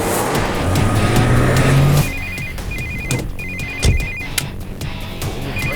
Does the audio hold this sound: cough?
no